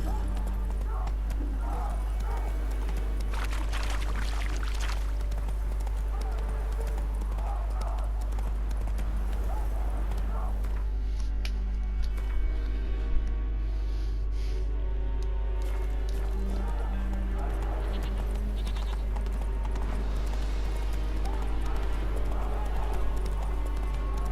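Horse hooves clip-clop at a steady galloping run through the open world of The Witcher 3, a constant rhythmic beat over ambient game music, with a brief whinny and light background sounds.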